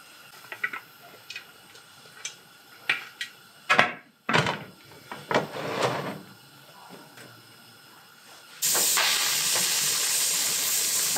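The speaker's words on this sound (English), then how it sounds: "the canner's been venting now for 10 minutes" A pressure canner processing jars of tuna lets out a loud, continuous hiss of venting steam in the last few seconds, after a series of scattered clicks, taps and knocks in a quiet kitchen.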